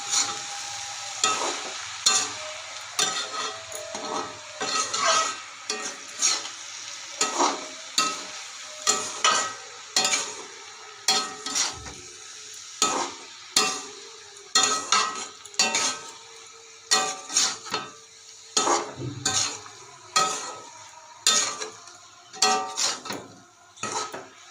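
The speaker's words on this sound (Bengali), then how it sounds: "একটু পর পর ঢাকা খুলে নাড়াতে হবে।" A spatula stirs vegetarian cabbage and potato curry in a pot, repeated scraping and clinking strokes in an uneven rhythm over a low sizzle, close and alone.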